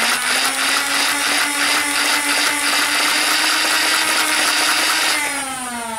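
A NERF Rapid Strike CS-18 blaster revving and firing, its flywheels whining steadily at high speed with a rapid rattling feed of darts, then the pitch sliding down as the motors spin down at the end.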